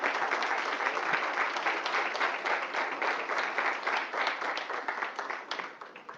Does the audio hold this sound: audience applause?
yes